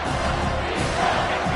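Stadium crowd roars in a college football video game as the home fans build noise for a red zone defensive stand, a dense continuous wall of cheering with a commentator's voice partly mixed in.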